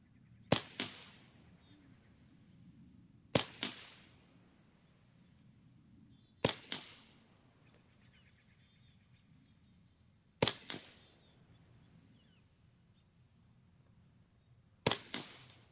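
Ruger 10/22 rifle fired at a target outdoors: five sharp, loud reports spaced about three seconds apart, each with a short ringing tail, over quiet low background hum.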